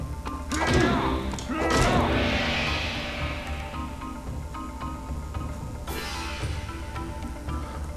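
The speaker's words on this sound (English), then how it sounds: "Strike Scorpion with each of Sub-Zero's high and low attacks." Sub-Zero's high and low strikes landing on Scorpion in Mortal Kombat: Deadly Alliance, a couple of heavy thuds and crashes near the start, then a later hit over a steady game background.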